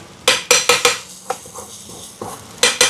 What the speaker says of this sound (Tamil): திருப்பியும் சட்டியை வச்சுட்டேன்.